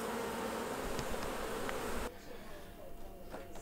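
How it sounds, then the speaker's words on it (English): Honey bees buzz around an open hive during a honey harvest, a steady dense hum that drops to a quieter, thinner drone partway through, with a few bees passing close. "brush a few bees away"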